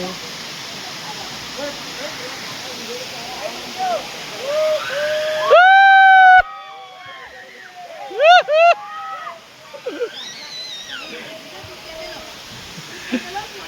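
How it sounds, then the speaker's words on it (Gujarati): A waterfall on the Vishwamitri river at Pavagadh pours in a constant broadband rush, with brief voices and whistling sounds rising over the water now and then. "અહીંયા ખૂબ સુંદર ધોધ પડી રહ્યો છે."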